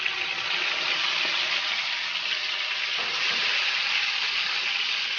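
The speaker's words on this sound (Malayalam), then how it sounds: "അപ്പൊ നമ്മളുടെ ചിക്കനൊക്കെ ഇവിടെ വറുത്തോണ്ടിരിപ്പുണ്ട്" Chicken pieces frying in hot oil for a large catering batch of biryani give a steady, dense sizzle and hiss, close and continuous, with no talk.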